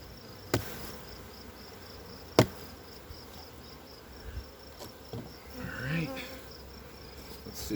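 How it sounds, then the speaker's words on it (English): Honey bees buzz steadily inside an opened hive during an inspection a week after splitting, a dense close drone with a few sharp knocks from handling the frames. "Lots of bees in here."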